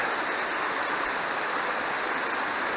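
Mountain stream of Gable Beck rushing over rocks below Great Gable in the English Lake District, a steady broadband roar of flowing water close by, continuous and unbroken with no voices.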